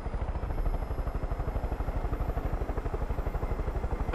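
Helicopter in the video game Far Cry 5, a steady, rapid rotor chop with a pulsing beat throughout, loud and close, with no talk over it.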